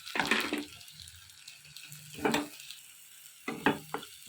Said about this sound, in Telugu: ఇలాగ వేగిన దాంట్లో క్యాప్సికమ్ ముక్కలు వేసుకొని వేపుకోవాలి.